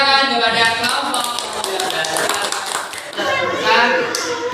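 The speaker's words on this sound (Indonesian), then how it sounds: "kita beri tepuk tangan kepada kelompok" Children in a primary school classroom clap for a group of classmates, a close, busy patter of small hands mixed with overlapping young voices and chatter.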